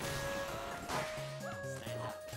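Cartoonish dog yips and bow-wow barks from a dog character in the fighting game ARMS, several short calls over game music and effects.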